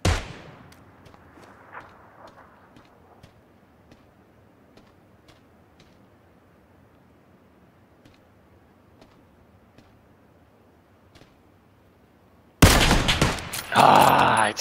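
Scattered distant gunshots in a PUBG match pop faintly at irregular intervals over a quiet background, before a loud burst of sound near the end.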